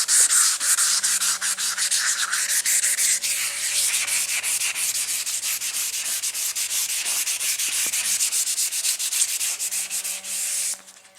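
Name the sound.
hand sanding fiberglass dashboard edges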